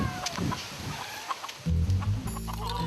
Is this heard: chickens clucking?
yes